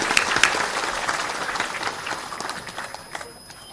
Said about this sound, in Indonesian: Tepuk tangan untuk semua pejuang kita.